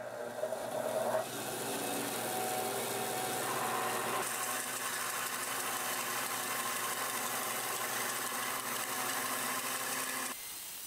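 A saw cuts a wooden disc for a small turned glass, making a loud, steady machine whine and rasp that runs almost without a break and cuts off abruptly near the end.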